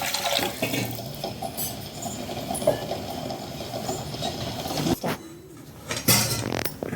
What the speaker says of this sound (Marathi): त्याच्यामध्ये आपल्याला पाणी टाकून घ्यायचं